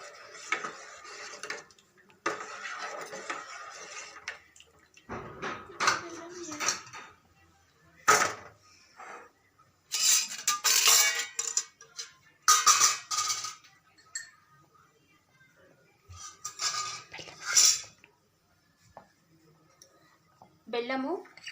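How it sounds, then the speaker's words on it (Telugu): A spoon stirs ragi malt with jaggery in a pot, giving irregular clinking and scraping bursts against the metal, some sharp and close, with quiet gaps between strokes. "కింద అడుగు మాడిపోకుండా ఇలా కలుపుతూనే ఉండాలి."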